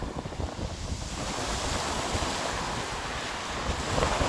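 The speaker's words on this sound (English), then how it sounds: "Sound of them waves as well." Sea waves crash and wash onto the beach at Southend-on-Sea at high tide, a loud, steady surf roar with heavy wind buffeting the microphone and no voices.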